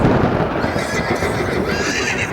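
Loud, close horse whinnies over a dense, rumbling background, with the neighing drawn out and continuous.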